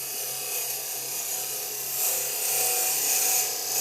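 A wood lathe gouge cutting a Brazil nut husk, a steady close whirring rasp of the spinning workpiece with the tool scraping continuously and swelling slightly louder partway through, no voices.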